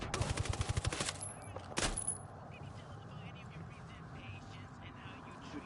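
Rapid automatic gunfire in Ghost Recon Wildlands, a fast rattling burst followed by a single loud shot, then fading into a quieter background rumble.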